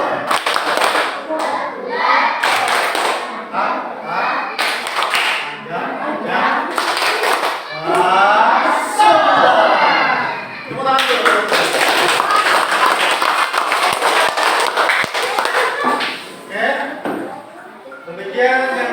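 Fifth-grade primary schoolchildren in a classroom clap in rhythmic bursts of a patterned routine, hands loud and close, with children's voices chattering and calling out between and over the claps.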